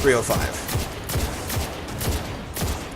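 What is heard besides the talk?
gunshots from Jade Rabbit scout rifle in video game Destiny 2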